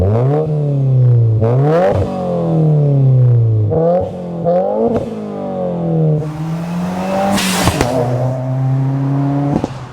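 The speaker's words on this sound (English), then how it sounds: "This is definitely my favorite exhaust for this car. It sounds amazing" A 2018 Subaru WRX with an Invidia R400 aftermarket exhaust revs repeatedly, rising and falling in pitch with crisp crackles between pulls, up close and raw.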